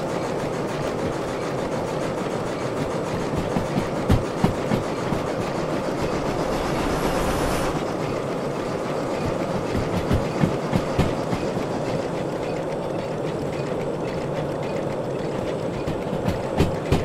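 An S282 steam locomotive in the Derail Valley simulator hauls an 880-ton coal train, a continuous heavy rumble with steady clickety-clack of wheels over rail joints, loud and close throughout, no talking.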